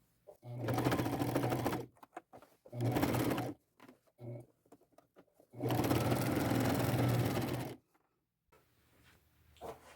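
A sewing machine with a denim needle stitches denim from thrifted bib overalls, running in two short bursts and one long steady whirring run, broken by brief faint handling sounds and near silence.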